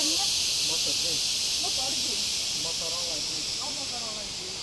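Cicadas buzzing near the Leuwi Hejo waterfalls, a loud steady high hiss that fills the whole clip and fades slightly toward the end, with faint voices and chirps underneath.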